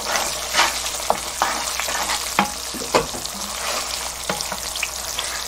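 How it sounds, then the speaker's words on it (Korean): Chunjang black bean paste stir-fries in oil over low heat, giving a close, steady bubbling sizzle broken by irregular clicks and scrapes of stirring, with no talk. "약한 불에서 한 3분 정도만 볶아주겠습니다"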